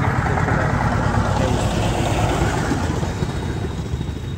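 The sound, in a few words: boat approaching on a big river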